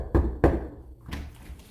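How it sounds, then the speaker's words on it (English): Two sharp, loud knocks on a door in quick succession, followed by a softer thud, close by with no talking. "Let's knock on this door and see if Paul's home"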